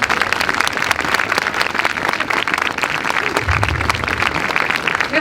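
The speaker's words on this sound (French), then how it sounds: "On peut les applaudir." Steady, dense applause from an audience at an outdoor Christmas market in Pau, thanking the town hall, continuing evenly for several seconds with no voices over it.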